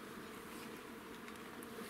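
Honeybees buzz at an apiary hive in Ukraine, giving a faint, steady, dense drone throughout, with no talk over it.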